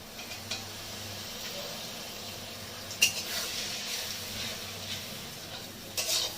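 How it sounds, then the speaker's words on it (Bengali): Bengali spice paste (masala) with cumin powder and a little water frying in a pan for a pabda fish curry: a soft, steady sizzle and bubbling, with occasional clinks and scrapes of a spoon against the pan. "মশলাটা যাতে না পুড়ে যায় তার জন্য আমি আর একটু জল দিয়ে কষাবো"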